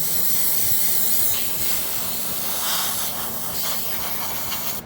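An airbrush sprays Vallejo paint, putting out a continuous close, even hiss that holds steady for several seconds and briefly swells near the end.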